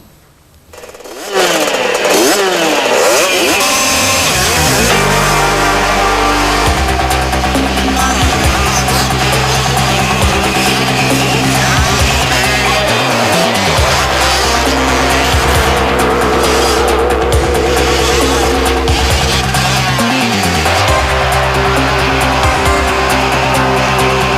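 Motocross bikes roar past close by, engines revving high and shifting pitch as they rise and fall, one after another, loud and continuous for the whole stretch.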